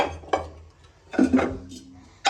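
Clay serving bowls with lids from a Boishakhi fair being handled, giving a few sharp ceramic clinks and knocks in short bursts, close and fairly loud, with quiet pauses between.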